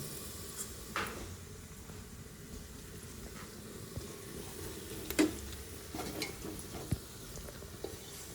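Chicken being stirred in a hot pan with masala and turmeric for a home-style Agri-Koli village chicken curry, giving a soft continuous sizzle with faint scraping stirs and a few light clinks, fairly quiet with no talk.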